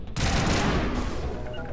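Burst of gunfire in the Mass Effect video game, a loud sustained volley of rapid shots starting abruptly and continuing close for almost two seconds.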